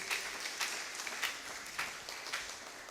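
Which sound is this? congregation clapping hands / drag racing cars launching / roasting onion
congregation clapping hands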